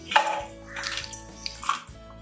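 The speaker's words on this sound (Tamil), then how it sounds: "இப்போ இதுக்கு கூடவே ஒரு 1/2 கப் தண்ணி சேர்த்துக்கிறேன்" Water splashes and gurgles as half a cup is poured into a pan of broken jaggery on a stove to make syrup, with soft close splashes and a faint metallic clink.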